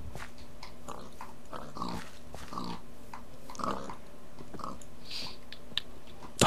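Pigs in the game Minecraft grunt and oink in short scattered bursts against a quiet background, fairly faint, with small clicks between the calls.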